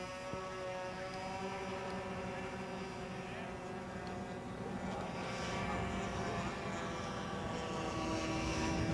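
A scratch-built RC model Savoia Marchetti SM-81 plane powered by three K&B 35 glow engines drones steadily in flight, a sustained buzzing whine that grows slightly louder toward the end, heard alone without talk.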